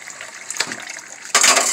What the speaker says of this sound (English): Some water in here, and we're gonna get this chicken